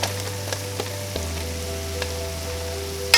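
Mushrooms frying in butter with caramelized onions for beef stroganoff give off a steady, close sizzle that holds throughout, with faint background tones underneath.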